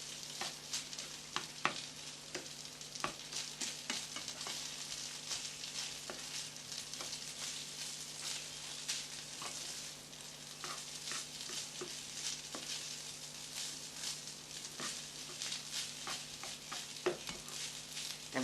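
Egg fried rice sizzles in a hot pan while being stirred and mixed with egg, a steady close crackle of frying with scraping stir strokes and occasional sharper pops.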